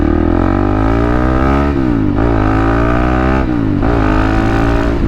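A 2021 KTM 690 SMC R supermoto motorcycle engine drones loud and close for the whole stretch, its harmonic pitch rising and dipping with brief throttle changes and two short lifts around the middle and later on.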